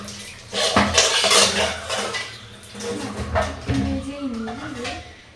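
Dishes and utensils are scrubbed and washed at a sink, with close, loud clattering of pots and cutlery and running water, while someone talks over the later part.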